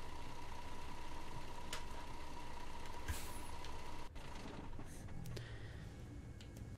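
Bus engine idling in Fernbus Simulator, a low steady rumble with a faint tonal hum, brief hiss bursts and clicks over it, a dip near the end.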